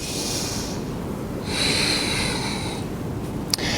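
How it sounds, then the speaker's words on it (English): Controlled Ujjayi yoga breathing is heard as a long, airy hiss constricted at the throat, a slow inhale followed by an exhale, close and fairly soft. "Come back to that Ujjayi breath."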